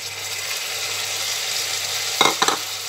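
Onions, green chillies and tomatoes fry in a pan with a soft, constant sizzle, broken near the end by two quick scraping stirs of a spoon; no one speaks.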